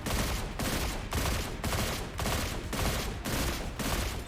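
Volt Shot pulse rifle in Destiny 2 firing in steady, evenly spaced bursts, about eight loud dense volleys in a regular rhythm with short gaps between them, close and alone.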